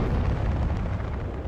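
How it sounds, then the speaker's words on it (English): Rocket artillery from a cluster barrage in the Cold War strategy game WARNO rumbles as a dense, continuous roar of overlapping blasts, steady and heavy, with no talk. "Artillerieangriff läuft."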